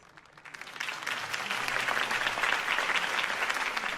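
A crowd applauds a campaign speech for Harvey Dent in a Batman video game. The clapping swells in over the first second into a dense, sustained roar of many hands that holds steady and fairly loud.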